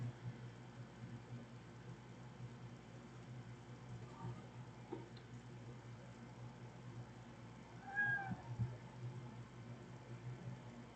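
A domestic cat gives a single short, faint meow partway through, over a steady low background hum and hiss, with no one talking.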